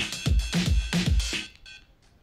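Percussion hits built from acoustic guitar samples for a rock band's track: about four punchy, rhythmic thumps with bright, clicky tops, played alone and close before fading out.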